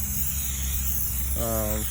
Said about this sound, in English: you can see, just keep spraying